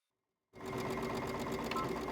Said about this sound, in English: one more time back to the sewing machine